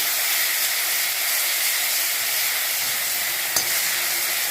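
Garlic frying in a pan for a bitter gourd stir-fry, giving a loud, steady, close-up sizzle and hiss throughout with one small clatter near the end.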